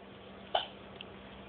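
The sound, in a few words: baby hiccuping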